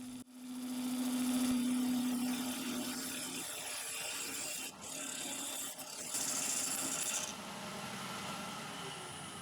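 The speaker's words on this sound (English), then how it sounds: "Look at all those nice ribbons flying off the lathe." A wood lathe spins a blank of wood and resin while a tool cuts ribbons of shavings: a fairly quiet, steady rasping scrape over a low motor hum, rising and easing in short strokes.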